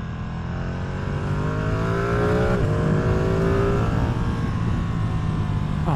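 A 2024 Ducati Streetfighter V2 motorcycle on a first ride accelerates hard, its engine note rising steadily through a gear and pulling higher, heard close and loud over wind noise with no talking.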